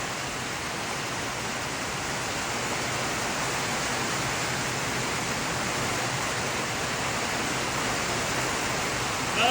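Heavy July rain pours down steadily as a dense, even hiss that stays loud and unbroken throughout, with no voices over it.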